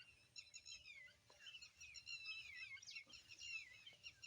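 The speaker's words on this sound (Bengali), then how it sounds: "পাখির কোলাহল।" Birds chirp and call busily in quick, high twittering phrases during a morning walk through a village field, fairly faint and close, with no voices over them.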